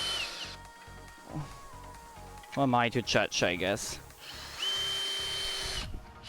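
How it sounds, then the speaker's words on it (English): A power drill whirs while boring into a tabletop, starting with a short motor whine, then a long steady drilling run near the end, with a person speaking briefly in between. "I might be slightly drilling into my table"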